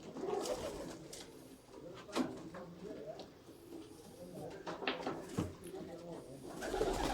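Pigeons from a kabootar bazi flock coo in soft, throaty bursts spread across the clip, heard close by with some rustling in between.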